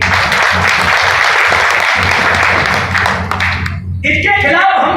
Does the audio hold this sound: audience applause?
yes